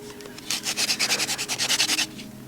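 Wood rubbed hard against wood with a little sand added for friction while making fire by hand in Namibia, about fifteen quick, even, close scraping strokes in a steady back-and-forth rhythm lasting around a second and a half.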